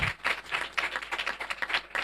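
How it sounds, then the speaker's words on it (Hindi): Church congregation clapping during a sermon, a steady run of rhythmic claps in regular bursts about a quarter second apart, fairly close and loud, with no talking over it. "तालियां बजाएं।"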